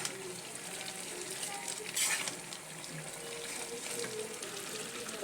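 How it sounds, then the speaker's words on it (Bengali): A pan curry of Malabar spinach with pangas fish gets stirred, soft scraping and gentle simmering hiss carrying steadily, with one louder clatter partway through. "এটাকে ভালো করে নাড়াচাড়া দিয়ে দিলাম"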